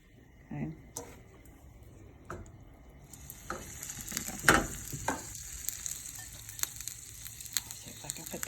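Food frying in a pan, apparently round patties with edges meant to crisp, giving a soft sizzle under intermittent clatter and handling noises, with a voice speaking at times.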